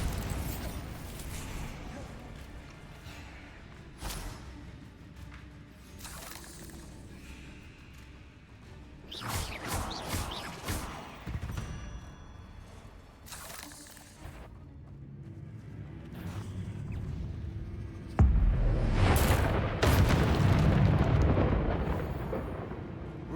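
Magical explosions from the Bombarda spell and other combat spells in Hogwarts Legacy, with repeated booming blasts and rumbling impacts scattered throughout and a heavy, loud burst near the end, mixed with game noise and voices.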